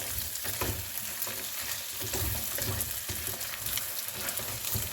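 An egg fries in a pan with potatoes, onions and sausage, giving a steady close sizzle with soft crackles and occasional stirring scrapes throughout.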